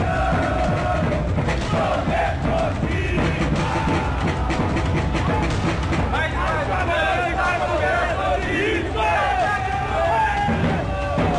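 An agitated football crowd in a stadium shouts and chants in a dense, continuous roar, with yells and bellows rising above the babble of many voices.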